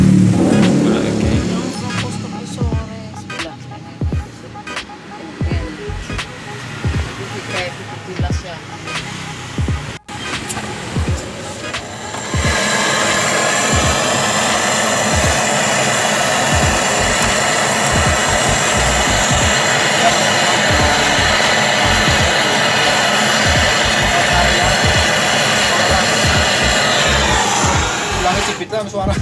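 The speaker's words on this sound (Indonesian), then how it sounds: "Kita akan mengelas lagi." Refrigerator evaporator being welded with a torch during replacement in a one-door fridge, a steady loud hissing roar that swells at about twelve seconds and holds, with scattered clicks and knocks earlier and faint talk.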